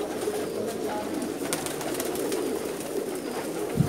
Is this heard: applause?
no